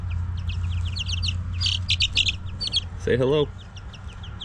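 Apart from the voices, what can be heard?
five little chickens chirping and clucking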